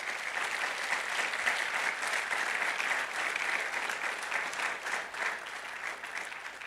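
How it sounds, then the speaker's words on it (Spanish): A church congregation applauds during a Spanish-language sermon, with sustained, even clapping from many hands that carries on with small swells before tapering off slightly. "Dale un aplauso fuerte al Señor por eso."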